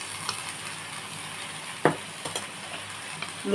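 Okra frying in a pan with onion and shrimp gives off a soft, continuous sizzle, with a few brief scrapes and clinks of a spoon against the pan, heard close and without talk.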